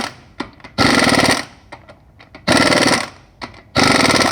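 Impact wrench hammers wheel lug nuts during axle and half-shaft work, loud rattling bursts of about half a second each, three of them with quiet clicks and handling noises in between.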